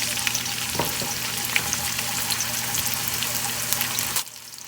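Onions hit hot oil in a pan and fry with a loud, dense, continuous sizzle close by, with a few spatters, before it drops off abruptly near the end; nobody speaks.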